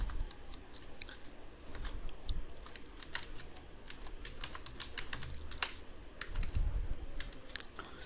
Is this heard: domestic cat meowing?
no